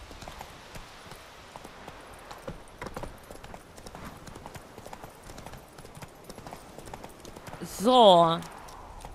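Roach, Geralt's horse in The Witcher 3, trots with a steady run of clip-clopping hooves, ending in a short whinny near the close, while a voice briefly talks over the hooves.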